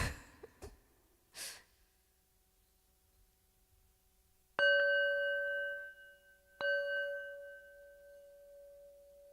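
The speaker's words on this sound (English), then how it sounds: "I'm just going to play this little singing bowl" A small singing bowl decorated with a cat is struck twice, close and clear. Each strike rings out in a bright tone with sustained shimmering overtones that slowly fade, after a few soft breaths and taps.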